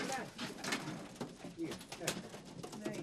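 Racing pigeons coo softly at the loft as they return from a race, low repeated coos mixed with rustling and bird calls, fairly faint, while a person talks over them.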